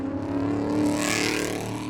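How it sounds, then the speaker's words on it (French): A car sweeps past in a quick, loud whoosh that swells and fades within about two seconds, its sound travelling from left to right with no voices. "la voiture passe de droite à gauche, le son part de gauche à droite"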